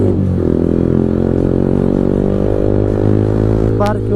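A Yamaha MT15 motorcycle engine drones loud and close with a steady, harmonic hum that shifts slightly in pitch while riding, with a brief high chirp near the end.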